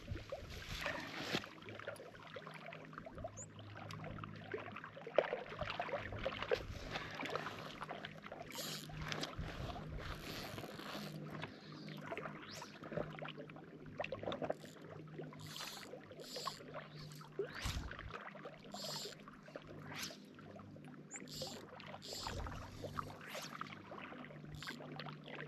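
A small boat is rowed on Heart Lake in the James Peak Wilderness, with faint, irregular splashes and oar strokes over light wind; quiet and close, with no voices.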